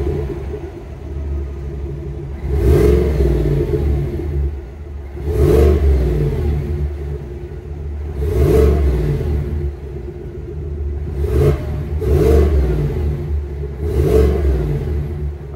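A Chevrolet 5.3 liter EcoTec V8 engine in a 2023 Chevy Tahoe Premier idling with a deep rumble, then revved about five times in a row, each rev swelling and falling back, close and loud.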